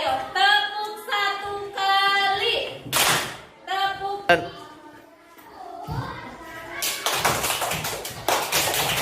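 A group claps in a set pattern of double and triple beats during a school activity, with sharp bursts of clapping between stretches of children's chanting and voices.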